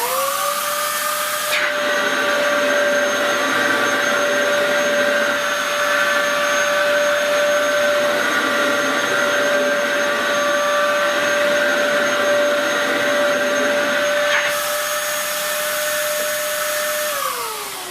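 An older Dyson DC07 upright vacuum cleaner runs loud and steady with a strong high motor whine, pushed back and forth across the floor, with no talk over it.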